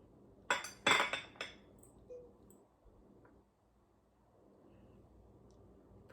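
A warm chocolate melting cake flipped out of its dish onto a plate, with a few close, sharp clinks and knocks of dish on plate in quick succession, then quiet.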